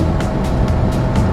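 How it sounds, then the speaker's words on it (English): A Saab car's 3-cylinder two-stroke engine running, a dense, buzzing drone with a regular pulsing beat, loud and close, with no talk over it. "it's a 3-cylinder, 2-cycle engine"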